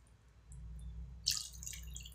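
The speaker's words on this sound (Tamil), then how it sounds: "அந்த அளவுக்கு நான் இதில் தண்ணி ஊற்றி விடுறேன்" Water poured from a measured container into a cooking pot of corn kitchadi, starting as a soft low trickle and then breaking into a brighter, splashing pour partway through, close by with no talking.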